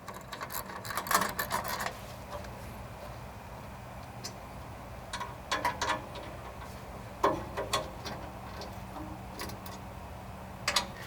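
Bolts on Jeep EVO rock skin armor get snugged by hand, giving bursts of quick ratchet-like clicks separated by quiet pauses, close up, with no speech.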